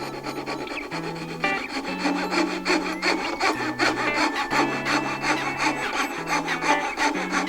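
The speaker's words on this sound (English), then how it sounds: "Let's go ahead and try this fret saw for this application here." A Knew Concepts fret saw cuts the waste out of wooden dovetails, giving steady back-and-forth rasping strokes in a close, continuous rhythm with brief pauses and no talking.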